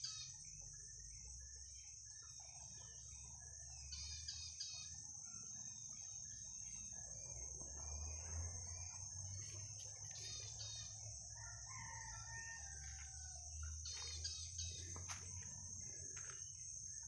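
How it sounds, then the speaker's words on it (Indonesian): Many birds call through a Borneo forest, with a rooster crowing, chirps and whistles scattered over a constant high insect drone and a low rumble, fairly far off and with no talk. "Banyak sekali burung di sini."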